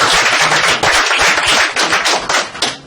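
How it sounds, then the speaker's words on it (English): Audience applause at a business talk, a dense, loud burst of many hands clapping that carries steadily through the whole moment. "Please give him a round of applause."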